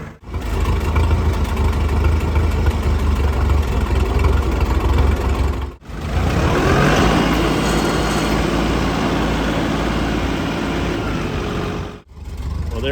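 Post hole digger auger engine running: a loud, close, steady engine drone that cuts out briefly twice, once near the middle and once near the end.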